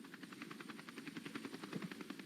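Helicopter in a tornado video game, a faint rapid rotor chop pulsing at an even rhythm, steady and distant, with no voices over it.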